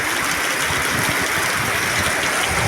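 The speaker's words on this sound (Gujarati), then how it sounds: "બગદાણામાં વરસાદ બહાટી બોલાવા મળ્યો" Heavy rain pours down in Bagdana as a dense, loud, even hiss of water that stays constant throughout, with no voices.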